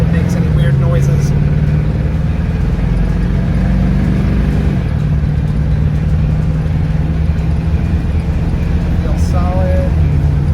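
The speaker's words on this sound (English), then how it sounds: "I'll gun it, get it up to speed and see if it makes any weird noises" A 1949 Ford Shoebox accelerates hard along a road, its engine a steady loud drone that climbs in pitch and then settles, with people talking over it inside the car.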